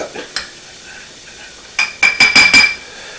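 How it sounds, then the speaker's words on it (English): A spoon stirring sautéing aromatics and saffron in a pan, starting with a few light scrapes over a quiet sizzle, then a quick burst of loud, ringing metallic clinks and scrapes close by. "I'm stirring this around a little bit just to help the bloom along a little bit"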